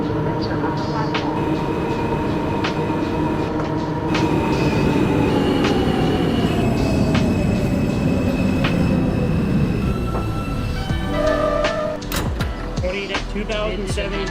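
New York subway Q train running in the OpenBVE train simulator game, a loud steady rumble of wheels and motors with a falling whine, squealing rail noises and clicks near the end, with faint talk mixed in.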